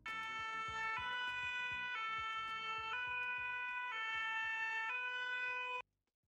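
A fire engine's emergency siren wails loud and close in a steady two-tone pattern, switching pitch about once a second for nearly six seconds before cutting off abruptly.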